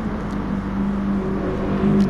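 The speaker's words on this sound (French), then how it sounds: "Et la Lexus qui passe." Lexus race car in a racing video game at the Circuit de Barcelona-Catalunya, its engine a steady, fairly loud droning hum that climbs slightly in pitch as it goes by.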